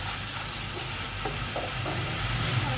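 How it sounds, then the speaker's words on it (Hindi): Pizza cutlets fry lightly in a pan with a continuous soft sizzle and hiss, faint and even throughout, with a few small stirring clicks. "इसको फ्राई करेंगे हल्का सा"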